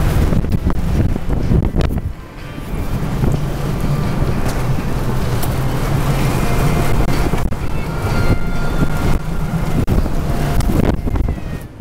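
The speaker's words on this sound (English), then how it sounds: "It's really windy" Strong wind buffets the microphone throughout on a cruise trip in Cozumel, a loud, continuous low roar with gusts, and no voices.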